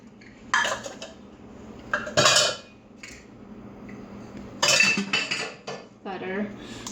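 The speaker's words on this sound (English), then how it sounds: "I'm just gonna mix everything together and then throw it in the oven" Crust ingredients are mixed with softened unsalted butter in a bowl for caramel nut bars, giving bursts of clinking and scraping utensil-on-bowl sounds separated by quieter pauses.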